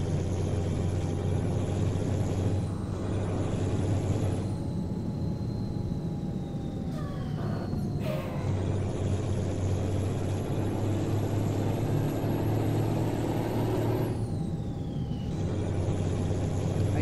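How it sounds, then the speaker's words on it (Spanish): A Hino bus engine roars steadily throughout in Euro Truck Simulator, a loud, continuous drone with rising and falling revs through gear changes, punctuated by brief air-brake hisses and clunks near the middle. "Estos camiones Hino, camiones y buses Hino, en el juego por lo menos rugen de una manera perfecta"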